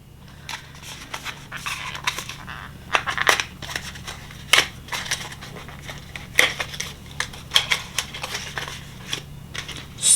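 Lip product packaging, a Protect Your Pout Vanilla Latte lip balm box, being unwrapped and opened: irregular crinkles, rustles and sharp snaps scattered across the clip, close and fairly loud, with no talking.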